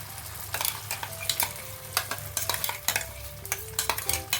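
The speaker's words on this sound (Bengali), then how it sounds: "দিয়ে একটু নাড়াচাড়া করব এই মশলার সঙ্গেই নাড়াচাড়া করব" Ground spinach being stirred with spices in a pan for palak paneer, a steady sizzle under repeated scraping strokes of a spoon, close and fairly loud with no talk.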